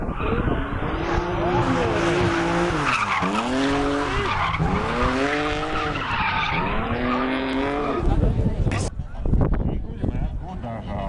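Race cars, BMWs among them, skid through the first corner of a track, with rising and falling tire squeals and engine wails that are loud and close, while a voice talks over the action.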